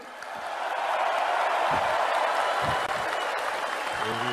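Crowd at a political rally in Indonesia applauds steadily and loudly for the whole stretch, a dense wash of clapping with faint voices mixed in.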